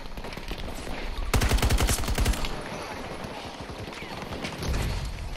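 Handgun gunfire in Battlefield 2042: a rapid run of sharp, evenly spaced shots for about a second, then scattered quieter pops and distant battle noise, with another low thump near the end.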